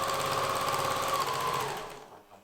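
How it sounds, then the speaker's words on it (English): A sewing machine stitches fabric edges for face masks, a fast, steady mechanical whir close by that runs evenly for about two seconds and then winds down to a stop. "Just fold the edge twice on your tie and you sew it."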